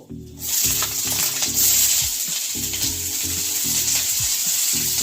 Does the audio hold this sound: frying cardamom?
yes